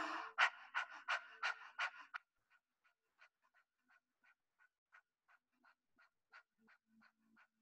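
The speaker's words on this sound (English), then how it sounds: "opening the mouth for breath of fire" Breath of fire in a kundalini kriya: a burst of rapid, forceful mouth exhalations in a quick even rhythm, close and loud, then softer, evenly spaced breath pulses that continue alone.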